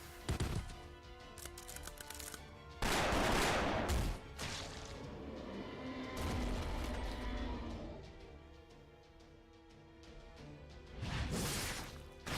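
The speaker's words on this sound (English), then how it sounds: "Wait, who's shooting?" Rapid bursts of video game gunfire from Fate Grand Order, with loud crashing volleys and smashing impacts arriving in several waves over a droning background, no talk heard.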